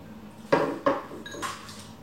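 A big spoon clinks against a jar or bowl of hazelnut spread, with two quick close knocks followed by a lighter metallic chink, and no talking.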